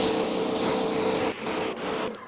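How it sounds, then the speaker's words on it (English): A steady, broad hiss of a pressure washer's long-distance spray rinsing a Harley-Davidson Street Glide-style motorcycle, fairly loud and close, with a couple of brief breaks near the end. "I step back like that and hit that long distance spray"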